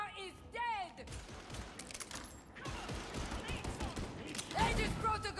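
Gunfire in Warhammer 40,000: Darktide, rapid bursts of shots scattered among game sounds and voice-like effects, moderately loud with a busy, chaotic texture.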